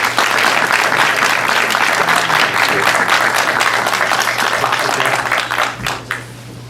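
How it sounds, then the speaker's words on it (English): Film festival audience at a Q&A applauds loudly, dense sustained clapping from a full room that tapers off near the end. "let's have a big round of applause."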